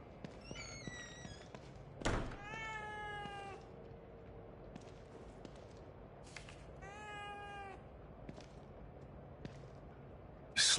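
A cat in The Evil Within 2 meows several times, with rising and falling cries in short bursts over a quiet, dark ambience, with a couple of sharp thumps and no talking.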